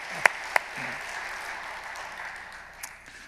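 Congregation at Daegu Seomun Church applauding during a Friday prayer service, a steady wash of clapping across the room with a couple of sharp louder claps near the start, fading slightly toward the end.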